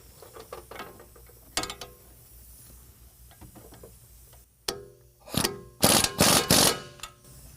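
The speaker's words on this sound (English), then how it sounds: "we're going to tighten it down using an 18mm on the front and then also on the back to hold it in place" An 18mm socket wrench tightens bolts during a lift-kit install on a 2022 Ford Maverick, giving close mechanical ratcheting clicks and clunks, sparse at first, then louder bursts near the end, with no speech.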